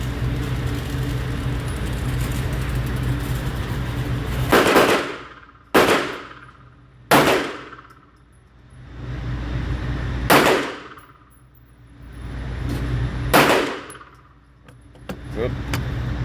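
Sig P365X pistol shots fired at a target: five sharp, loud cracks spaced a second or more apart over a constant background rumble, each followed by a brief ringing decay.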